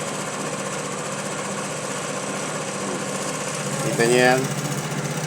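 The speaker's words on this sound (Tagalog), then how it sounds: "Kaya kalakas ang vibrate ng Easy Ride 150 Fi" An Easy Ride 150 Fi motorcycle engine idles close by with a steady, rough, vibrating thrum, while someone talks over it and a brief louder buzz rises near the end.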